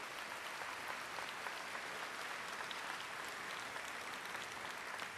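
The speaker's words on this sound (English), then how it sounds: "Let's give them a round of applause for their guidance." Audience applause fills a commencement ceremony hall, a dense, steady clapping from a large crowd heard at a distance for several seconds.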